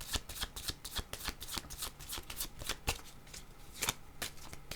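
Oracle cards are shuffled in a rapid run of crisp, close riffling snaps, each burst sharp and papery, continuing without pause and with no voices.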